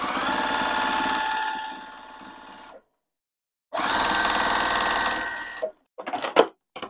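Sewing machine stitching a seam on a quilted bowl cozy, two close, loud bursts of fast buzzing stitching separated by a pause, then a few short clattering knocks.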